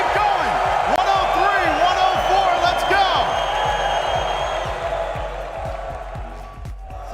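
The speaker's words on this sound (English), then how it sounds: "This sounds like a BU hockey crowd." Large Rocket League esports arena crowd in Boston at a championship final, loud sustained roar and cheering with whoops, gradually fading slightly, while an announcer speaks over it.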